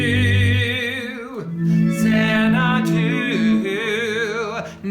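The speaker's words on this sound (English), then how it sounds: "Right now I have the delay on shimmery, so it sounds like this." Electric guitar through a delay pedal set to a shimmery mode, playing sustained chords with lush, wavering repeats that ring out continuously and loudly, alone with no talking.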